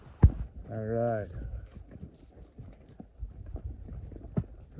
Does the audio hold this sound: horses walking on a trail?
yes